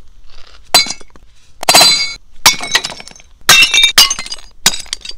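A rugged BlackView BV6200 Pro phone strikes a brick outdoors, producing several sharp, loud cracking impacts with gritty crumbling bursts spaced over a few seconds, no voices over them.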